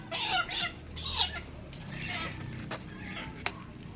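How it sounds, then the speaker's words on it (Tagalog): Chickens cluck and squawk nearby in a short burst, with faint background voices and outdoor noise. "Okay, manok."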